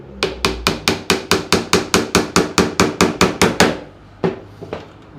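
Hammer driving nails into a rustic wooden drawer: about sixteen rapid, evenly spaced sharp blows close by, then a pause and two final separate strikes.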